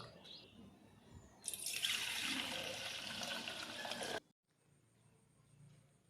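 Rice-washing water poured from a vessel onto a curry leaf plant: a steady splashing pour lasting a few seconds, close and moderately loud, then stopping abruptly into quiet outdoor background.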